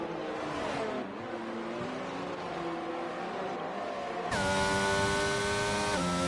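McLaren Formula 1 cars in an F1 racing video game, in a race at the Austrian Grand Prix, approaching turn 3: a high engine whine shifts in pitch through the gears, then a louder, brighter engine note joins near the end, close and continuous.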